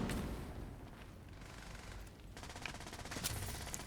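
Sustained video game gunfire rattles on at steady volume with dense crackling bursts, a thrown grenade among the combat noise, with no distinct single blast standing out.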